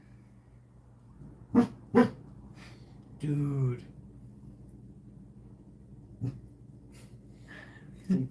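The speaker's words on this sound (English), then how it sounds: "Sorry for the Borky dog noises." A dog indoors gives a few sharp barks, then a drawn-out whining whimper, followed by scattered softer huffs and yips, with a brief spoken word among them.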